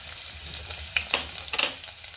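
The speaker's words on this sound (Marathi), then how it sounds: "त्यामध्ये मोठा चमचा तेल घातले, तेल गरम झाले, त्यात आपण जिरे घालूया, आता टेचलेला लसूण घालूया" Cumin seeds and crushed garlic fry in hot oil in a pan, giving a close, steady sizzle with crackling pops and a few clinks of stirring.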